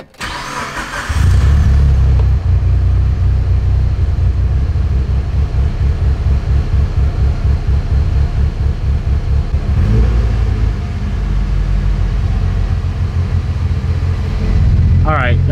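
A Scion FR-S engine, fitted with a new sensor, cranks briefly and catches, then settles into a loud, steady, close-up idle rumble that carries through to the end.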